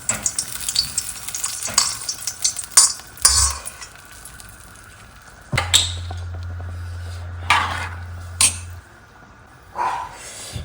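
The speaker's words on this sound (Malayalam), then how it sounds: "നമ്മൾ അണ്ടിപ്പരിപ്പ് വറുത്തിടുവാണേ" Cashew nuts fry in ghee in a kitchen pan with a continuous crackling sizzle, broken by repeated stirring scrapes and metallic clinks of a spoon against the vessel.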